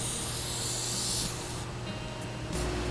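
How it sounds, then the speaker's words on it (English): A short hissing burst of spray lubricant is applied to the box sweep of a steel door, close and fairly loud, then it stops and leaves a quieter hiss with a faint later puff. "I recommend spraying directly on the box sweep instead of on the door sill"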